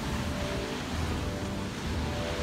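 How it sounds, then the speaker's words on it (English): Ocean waves wash on a beach ahead of Hurricane Irma, a dense, constant roar of surf with wind rumble in the microphone and no break in the sound. "Look at the beach."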